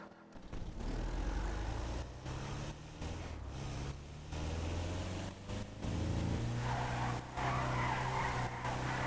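A car drifts and skids in GTA 5, tires squealing steadily over a loud engine drone for the whole stretch, with no voices.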